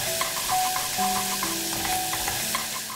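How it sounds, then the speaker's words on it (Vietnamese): Oil sizzles steadily in a pan as minced garlic and shallots fry, with small spattering crackles, while a utensil clinks and scrapes a few times against the pot. "cho 1 muỗng canh dầu ăn vào, 1 muỗng canh hành tỏi băm vào phi thơm"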